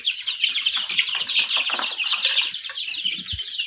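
Young chickens cluck and peep steadily while feeding on a diet of dandelion and nettle, a dense, busy chorus of small birds close by with no talking.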